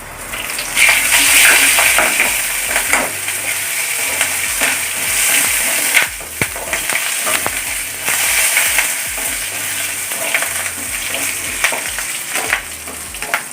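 Curry leaves and dried red chillies crackle and spit in hot oil for a chicken curry, a loud, continuous sizzle with sharp pops and occasional stirring clatter, no voices.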